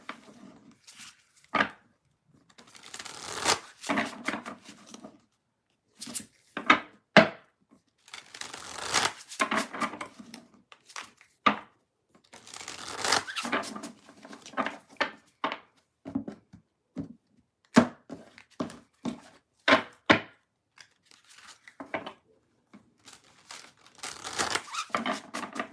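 Brand-new tarot cards are shuffled up close in irregular bursts of riffling and flicking, with brief pauses between shuffles and crisp, papery crinkling throughout.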